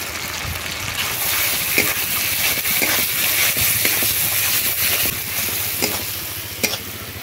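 Spices for dry fish curry sizzle and fry in a pan while being stirred, a steady hissing crackle broken by repeated scraping and clinking strokes of the spoon.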